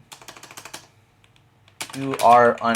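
Rapid keystrokes on a computer keyboard tap out a short burst of clicks during Python coding, then stop; after a pause a voice speaks over the quiet.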